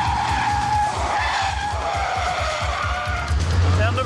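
A car skids while being turned around, with a sustained tire squeal and engine roar that runs loud and continuously throughout, with a heavier low thump near the end.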